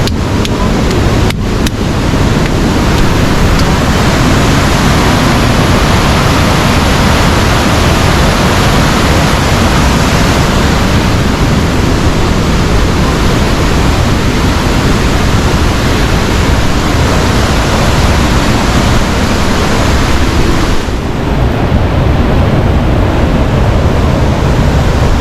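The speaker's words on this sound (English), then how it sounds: "The river is too powerful, so we cannot swim." A powerful river rushes past in a steady, loud, unbroken roar of churning water that fills the whole scene.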